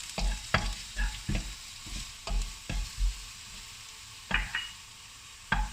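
Garlic and cumin seeds fry in hot oil with mustard seeds while a spoon stirs the pan, giving a series of sharp scraping strokes over a soft, steady sizzle.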